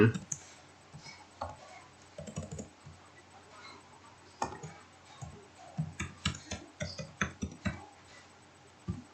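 Password entered on a computer keyboard while setting up a Microsoft 365 for Education account: soft, irregular key clicks, sparse at first and then a quicker run of taps near the end, in a quiet room.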